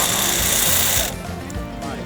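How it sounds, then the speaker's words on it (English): A power tool whines loudly and steadily for about a second outdoors while a duck hunting blind is being set up, then cuts off abruptly, leaving quieter background sound with voices. "Power tools. Not allowed to use those."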